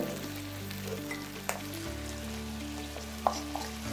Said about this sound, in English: Add in our soy sauce.